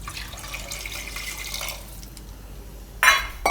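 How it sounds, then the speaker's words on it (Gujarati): A bowlful of water is poured onto rice in a kitchen, a short splashing gush near the end after a quieter stretch of faint background noise. "તો 1 વાટકી બીજું પાણી નાખીશું આપણે."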